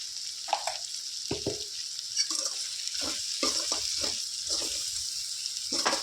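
Okra curry sizzles in a pan after three spoons of chili powder go in, a steady fry hiss broken by a few scraping stirs and clinks, with no talk.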